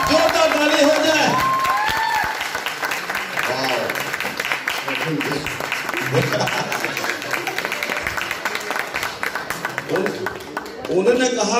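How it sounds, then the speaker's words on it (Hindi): A crowd claps loudly at a Vestige gathering, with dense applause and a few cheers. Voices talk over it as the clapping continues. "हमारे अमित मंडल जी डायमंड एनर्जी के लिए जोरदार ताली हो जाए"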